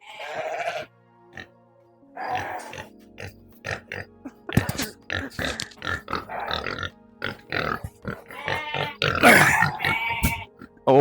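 Farm pigs grunt and squeal excitedly at feeding time, with sheep bleating among them, a close, busy run of short bursts and gaps, and a loud squeal near the end.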